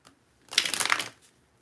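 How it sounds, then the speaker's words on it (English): Tarot cards are riffled in one quick, close shuffle lasting about half a second, a crisp papery flutter in an otherwise quiet room. "Gotta shuffle the cards."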